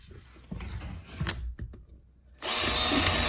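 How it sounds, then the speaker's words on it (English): Power drill boring holes for zip ties through a laundry hamper and wood for a DIY Halloween fire pit prop, with a few short clicks and bumps first, then a loud, sustained high whine of the drill running close up. "All I'm doing now is putting drilling holes for my zip ties to go through."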